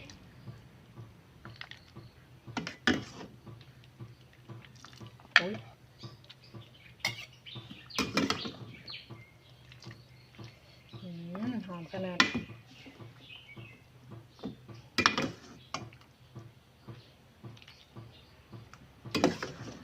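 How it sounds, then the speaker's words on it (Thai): Pork bone curry ladled into large bowls, with repeated clinks and scrapes of a ladle against pots and dishes, some sharp and close, plus faint bird chirps in the background. "ตักใส่ถ้วยใหญ่ๆเลย"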